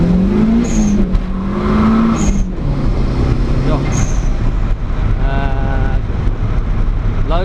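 A Honda CRX pulls away under hard acceleration with plenty of wheel spin, its engine rising through the revs with a rough, busy roar that holds loud throughout, while a voice talks over it.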